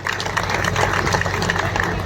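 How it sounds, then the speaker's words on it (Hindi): Loud, dense clapping from a crowd at a mass wedding ceremony for seven brides in Narwana, continuous and close, with a low hum running underneath. "एक बार एसडीएम साहब के लिए जोरदार तालियां"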